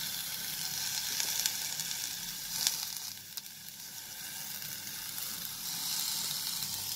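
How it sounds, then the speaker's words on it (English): Curry leaves dry roast in a hot kadhai, giving a steady crackling sizzle with faint scraping throughout and a couple of sharp clicks, close and moderately quiet. "just dry roast this curry patta leaves so that it turns little crispy"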